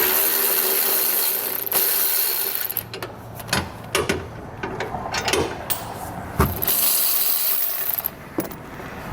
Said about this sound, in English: grab a 15mm socket and get these removed